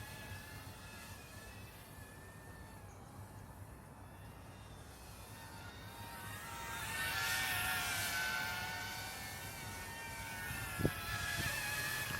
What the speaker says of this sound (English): Now this is non-GPS drone, so I cannot fly too far away and I cannot fly too high